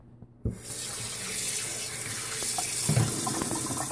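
Tap water pours steadily into a kitchen sink while espresso machine parts from a Breville Cafe Roma are rinsed, starting abruptly and continuing as a close, loud, even rush.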